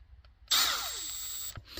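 A power drill fitted with a spot weld drill bit spins up suddenly and runs at a steady high whine for about a second, close and loud, then stops.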